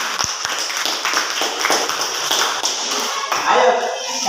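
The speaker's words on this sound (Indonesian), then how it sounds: "Berikan tepuk tangan untuk kelompok 1." Classroom applause for a student group after a discussion presentation, a dense patter of many hands clapping at close range, with scattered taps and voices rising near the end.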